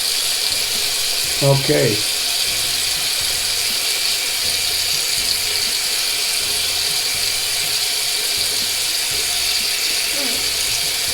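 Face washed with soap under running sink water: a steady rush of flowing water with soft splashing and rubbing pulses, and a brief spoken word near the start.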